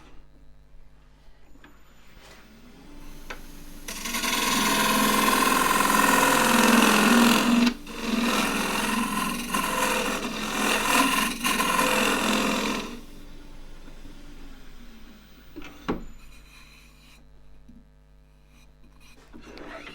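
A gouge cuts into an endgrain wooden cup spinning on a lathe, giving a sustained rough, buzzing cutting noise for several seconds. It breaks briefly mid-pass, then resumes before fading out to quieter lathe hum.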